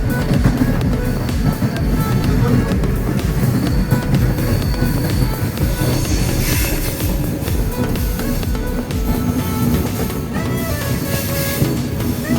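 The Goa to Secunderabad train 17040 rolls along near the Dudhsagar waterfalls, producing a loud, continuous rumble and rattle of carriages at close range with no talk.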